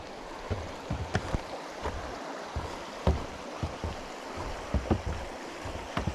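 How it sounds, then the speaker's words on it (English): Footsteps splashing through a creek on a Pacific Crest Trail crossing of Crater Creek at night, with steady rushing water and irregular sloshing steps close by, no talking. "Crossing Crater Creek."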